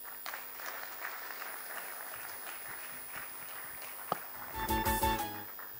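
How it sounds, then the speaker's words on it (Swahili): Audience at a Human Rights Day 2023 commemoration event clapping for the chief guest, a steady patter of applause through most of the stretch, swelling into a louder burst near the end. "Another round of applause to our chief guests."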